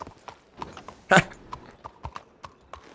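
Video game horse hooves clip-clop in a steady, quick rhythm with one louder thud partway through, fairly close and with no talking.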